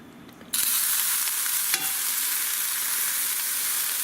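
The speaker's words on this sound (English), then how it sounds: "I have my cast iron pan on the stove, and I just have to open up my jar of ground venison and go ahead and add that" Ground venison from a jar hits a hot cast iron pan on the stove and bursts into a sudden loud sizzle after a quiet moment, then keeps hissing steadily up close with one brief clink partway through.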